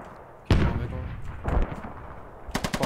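Incoming gunfire in Squad while holed up in an apartment building: a heavy boom-like shot, a second thud a second later, then a quick automatic burst of sharp cracks, moderately loud with some distance.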